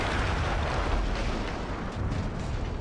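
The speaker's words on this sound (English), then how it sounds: "That explosion was one of the sweetest sights of the war for me." Deep rumbling blast with a sustained roar and crackle, loud and close, like the tail of a large explosion, in the video game Battlefield 1.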